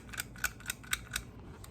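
Several short, sharp hissing puffs at an uneven pace, close by, from a spray bottle whose trigger sticks on the first squeeze and is squeezed repeatedly in a kitchen.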